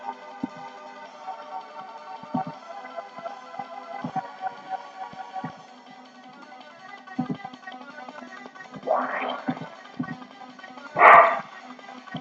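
Dogs bark in short separated bursts, some yips and a louder closer bark near the end, over a soft sustained musical background without speech.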